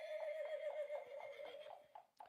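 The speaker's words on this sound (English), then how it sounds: "You know what I need is a nice horse whinny." A single horse whinnies nearby, a wavering, quavering neigh that rises and falls for about two seconds before trailing off, heard alone without talk.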